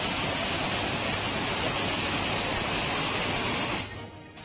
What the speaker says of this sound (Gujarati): ભારે વરસાદ વરસી રહ્યો છે